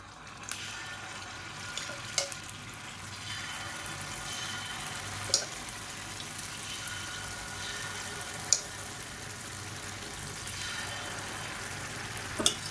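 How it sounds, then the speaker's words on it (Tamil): Appam batter fries in hot oil in a pan cooked for Karthigai Deepam, with a soft, steady sizzling hiss and a few sharp clicks at scattered moments. "எண்ணெய் நல்லா சூடாகிடுச்சு. ஒவ்வொரு புளியிலையும் அப்பமாக ஊற்றிக்கலாம்."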